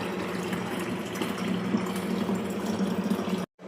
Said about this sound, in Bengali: চা হতে হতে আমি জলগুলো ভরে নিই।